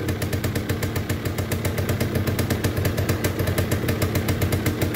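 A 1979 Yamaha DT175 two-stroke motorcycle engine runs steadily with a fast, even pulsing beat while its throttle cable is worked by hand, heard up close with no talking.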